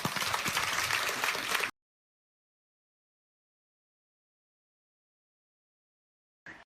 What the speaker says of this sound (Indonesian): Anda boleh tepuk tangan.